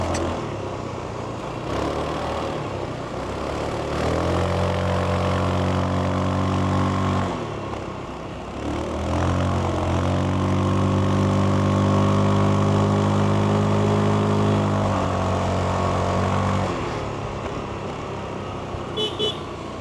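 A Zontes 368G scooter engine buzzes and revs while riding mountain corners, rising and falling with throttle changes, loud and close with wind noise.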